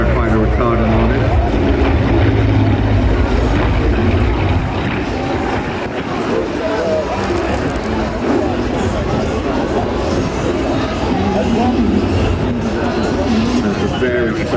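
A propeller aircraft roars past at an air show, its engine drone loud and sustained throughout while a commentator talks over it.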